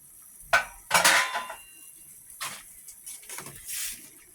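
Patola vegetables are stirred in a metal pan, with a few sharp scrapes and clinks of a utensil against the pan, spaced out and moderately near, with no talking.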